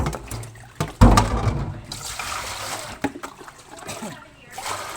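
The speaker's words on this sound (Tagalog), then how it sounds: "Sa ato ang pagpanghugas og plato guys." Water runs and splashes with clattering knocks of dishes, close by, the flow rising and fading.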